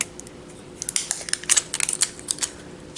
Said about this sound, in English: Pulled some of the tape off